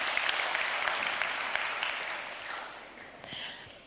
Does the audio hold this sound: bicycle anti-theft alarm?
no